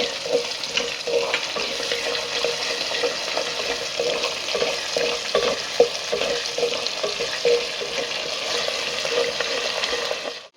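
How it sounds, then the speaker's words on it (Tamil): Garlic, ginger, black pepper and cumin frying in hot oil for a spicy brinjal tamarind curry give a steady, close, loud sizzle with faint stirring scrapes throughout. "இந்த பூண்டு நல்லா இந்த எண்ணெயிலே வதங்கட்டும்"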